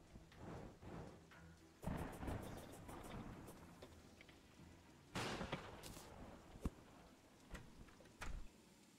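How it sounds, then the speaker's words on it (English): Thunder in the video game Terraria, a series of sharp loud cracks and booming rumbles recurring across the stretch, heard alone without talk. "Thunder is so goddamn loud."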